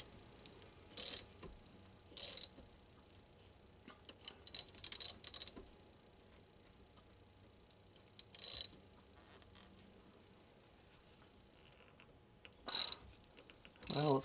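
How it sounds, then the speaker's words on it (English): A ratchet wrench clicking in short isolated bursts, roughly six separate runs of rapid clicks spread across a quiet workshop, fairly close and crisp with silence between them. "I can just ratchet it."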